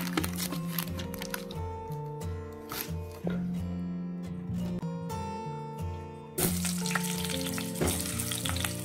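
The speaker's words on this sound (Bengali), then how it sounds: "বড়াগুলো ভাজা হয়ে গেছে," Vadas frying in hot oil in a home kitchen pan, with steady sizzling and bubbling throughout and a low background hum, no talk.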